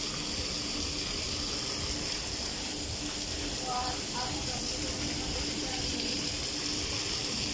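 Water from an indoor fountain in a large shopping mall falls back into its basin with a steady, faint rushing hiss under the hum of the space.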